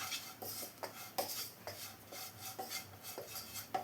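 A metal spoon stirring spices in a hot pan for Kerala-style kadala curry, rhythmic scraping and clinking strokes about twice a second, close and soft, with no talking.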